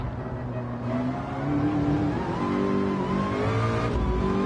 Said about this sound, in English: the sound of a fast engine